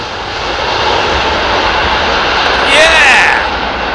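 Jet airliner in a special independence livery arriving at an airport, its loud engine roar steady and sustained with a brief whine rising near the end, while someone talks over it.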